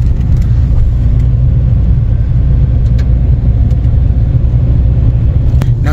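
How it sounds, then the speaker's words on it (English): Auto rickshaw engine rumbling steadily and fairly loud as it drives past on a mountain road, a continuous low motor drone with no talking. "Comes another tuk-tuk."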